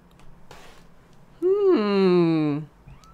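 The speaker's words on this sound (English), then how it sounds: "I hear a siren." A siren wails up close in one rising-and-falling sweep lasting about a second, loud against a quiet background, with faint voices at the start.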